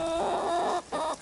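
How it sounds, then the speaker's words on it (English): Chickens, including a Bielefeld hen, cluck close by in a backyard chicken pen, two loud drawn-out calls separated by a short pause. "I am out here in the chicken pen with my beautiful birds."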